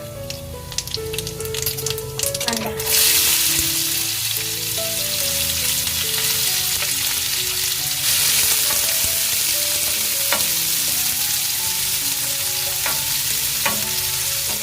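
Mustard seeds and cumin sizzle and crackle steadily in hot oil in a pan, a close, continuous frying hiss with scattered pops, with faint sounds of the pan and stirring beneath it.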